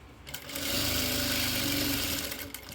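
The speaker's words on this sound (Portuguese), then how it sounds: "Dobro, ajusto e passo a minha costura." A sewing machine stitches a seam on fabric binding, a steady mechanical whir running continuously at close range for most of the stretch, with no voices.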